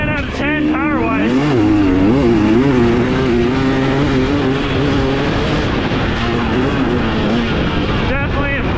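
A 2023 Husqvarna TX300 off-road motorcycle engine revs and climbs through gears while riding, loud, close and rising and falling in pitch, with someone talking over it.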